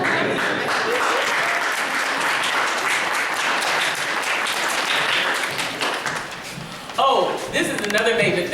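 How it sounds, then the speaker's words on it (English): An audience at a poetry reading in a fine arts gallery breaks into loud, dense applause for a poet, holding steady before tapering, with a voice beginning to speak near the end. "clap her up, clap her up."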